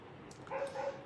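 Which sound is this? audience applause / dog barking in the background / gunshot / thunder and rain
dog barking in the background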